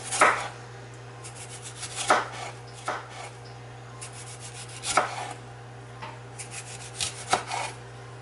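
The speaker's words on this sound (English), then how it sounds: "So I'm just going to slice this up." A knife slices through a tomato on a board in a kitchen while an eggplant dip is being made, giving a series of separate crisp cuts with short pauses between them, close and alone.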